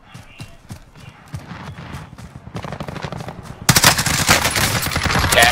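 Gunfire in a shooter video game featuring the CR-56 AMAX rifle, bursts of rapid shots that start faint and distant and grow into loud, close automatic fire, with scattered speech-like sounds in the mix.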